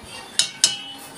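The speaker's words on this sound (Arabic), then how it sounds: "رفعنا الحله على البوتاجاز وبتبتدي نقلب فيها" A spoon stirs milk and sugar in a pot on a gas stove, giving two sharp metallic clinks against the pot over a quiet background.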